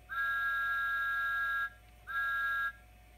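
A high, steady electronic whistle from a Bachmann E-Z Command Dynamis DCC model train locomotive toots twice: one long blast of about a second and a half, then a shorter one after a brief pause, with no other sound.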